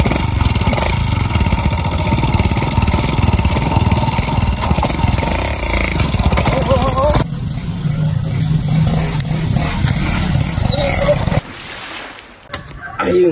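A motorcycle engine runs loud and steady for about seven seconds, then its drone turns quieter and rougher before dropping away near the end.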